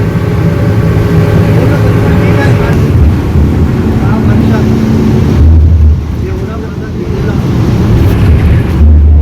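A loud, steady engine rumble from a state transport bus moving along a road, with wind buffeting the microphone throughout.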